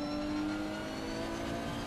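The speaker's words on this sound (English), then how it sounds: "Sounds like a race car." A steady, buzzing race car engine drones at a constant pitch in Assetto Corsa Competizione, loud and continuous with no talking.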